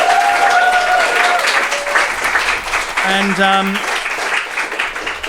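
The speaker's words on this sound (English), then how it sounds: "We'll give him a round of applause." An audience gives a round of applause at a talk, a fairly loud broad clatter of clapping lasting several seconds with a brief voice over it.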